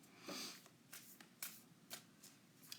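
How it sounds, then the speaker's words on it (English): A tarot card deck is shuffled by hand, giving a quick series of soft riffling bursts spaced about half a second apart, close but quiet, with no talking. "y'all are going to pick the tarot deck, as usual, if I can shuffle"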